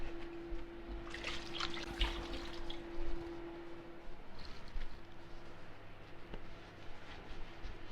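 Tap water running during handwashing in a kitchen while preparing food, a soft steady trickle and splash that is faint and close, with no speech.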